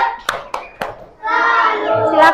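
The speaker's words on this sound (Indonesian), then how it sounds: "Tepuk salut." Children in an Indonesian classroom clap a tepuk salut chant: three sharp, spaced hand claps ring out close by, then a group of young voices chants together loudly for the rest.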